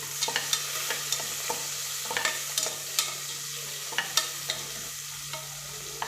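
Whole shallots fry in oil in a pan, giving a soft, steady sizzle broken by sharp ladle scrapes and taps against the metal at irregular intervals. No voices.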